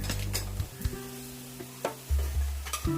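Mutton and slit green chillies being stirred into sizzling masala in a pan: a steady sizzle with quick scraping spatula strokes and a few metallic knocks, close and fairly loud.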